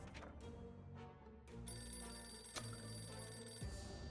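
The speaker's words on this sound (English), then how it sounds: "I've heard the phone call. I don't know if you did. There was a dring, dring." A telephone rings in the game 60 Seconds! Reatomized, a bright electronic ring that is fairly faint under a low background hum.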